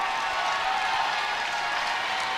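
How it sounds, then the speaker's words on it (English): Sustained applause from a high school basketball crowd on senior night, a steady dense clatter of clapping filling the gym at moderate loudness. "some ovations for some of those seniors coming off the floor right here"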